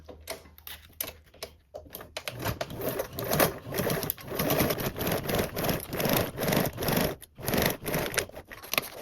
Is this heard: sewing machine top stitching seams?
yes